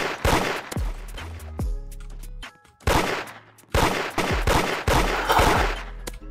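Rapid bursts of gunfire in a Da Hood video game raid, loud repeated volleys and machine-gun-like strings separated by brief pauses, with no talk over them.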